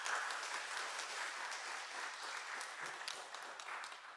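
Church congregation clapping steadily together during a Sunday worship service to welcome the choir conductor, a dense, even wash of applause heard alone for several seconds.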